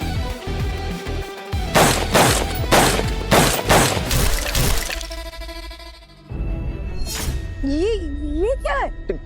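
Several sharp, loud gunshots crack in quick succession on an indoor shooting range in a film, then give way to voices talking over a backing music score.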